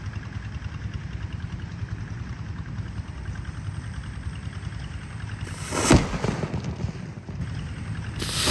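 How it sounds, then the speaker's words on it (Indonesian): A dambum firecracker bursting outdoors, a single sharp loud bang standing out over a steady idling engine rumble and background noise. "Sudah menyala mercon dambum."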